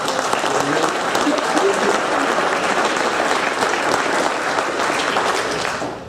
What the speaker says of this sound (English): Let's give them a nice applause.